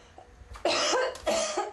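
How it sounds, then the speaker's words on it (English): A person coughs hard twice, close and harsh, after breathing fumes from bleach mixed with tub cleaner in a bathroom. "I started to cough really hard."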